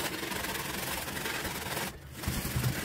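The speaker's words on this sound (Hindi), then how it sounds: "ये लेना है काटा ब्रश, थोड़ा गीला करना है। देन स्लोली स्लोली से रब करना है।" Football boots being scrubbed slowly with a damp brush, a steady close rubbing hiss that runs without break, pausing briefly before the strokes resume, with no voice.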